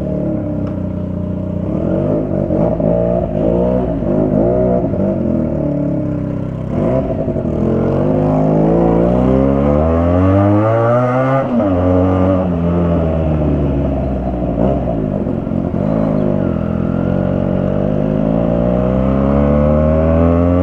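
A motorcycle engine revs during a highway ride in Nepal. Its loud, close drone rises and falls in pitch through repeated accelerations and gear changes, with no talking.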